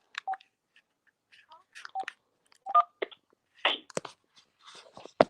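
A phone sounds a series of short electronic dialing-type tones as a call comes in, scattered bursts with brief gaps, fairly close and clear against otherwise quiet surroundings.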